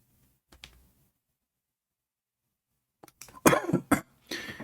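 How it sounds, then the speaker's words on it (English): A man coughs in a short harsh burst, then after a pause lets out a louder cluster of several coughs and throat-clearing sounds, close and alone. "sorry, I'm coughing."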